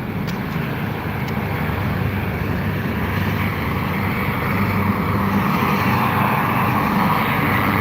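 A helicopter flies overhead outdoors during a wildlife outing near London, its engine and rotor roar loud and steady throughout with no talk.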